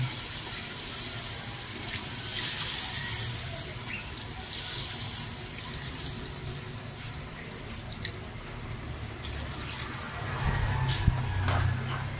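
Water pours steadily into a clay cooking pot with a continuous splashing gush, fairly close, ending in a louder burble.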